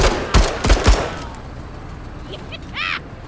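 Several sharp bursts of gunfire from a firefight in the strategy game MENACE, loud in the first second, then fading into a quieter ambience with a few faint electronic chirps.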